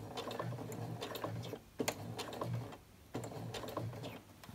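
A home sewing machine works a catch-all caddy slowly, stitch by stitch, in short close bursts of mechanical whirring and clatter separated by brief pauses.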